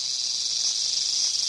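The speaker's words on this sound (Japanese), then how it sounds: "まあセミですから。" A cicada's steady high-pitched drone in an anime, loud and unbroken throughout, with no other sounds.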